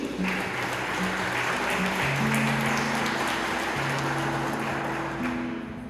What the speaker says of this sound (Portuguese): Você pode aplaudir Jesus aí?